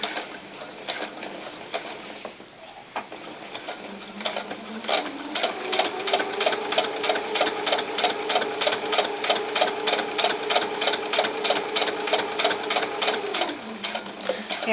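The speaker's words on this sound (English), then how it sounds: "now I'm ready to sew" A sewing machine stitches a quarter-inch seam on doll snakeskin boots, starting with a few short bursts before settling into a long, steady run of rapid mechanical ticking and whirring, then slowing and stopping.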